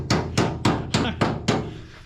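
Six sharp, evenly spaced hammer strikes ring out on sheet metal, each with a short metallic decay, close and fairly quiet.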